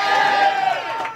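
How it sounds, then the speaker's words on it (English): A comedy club crowd at Mike's Tavern cheering and whooping in a brief, loud burst of mixed voices that tapers off toward the end. "Applause for Mike's Tavern."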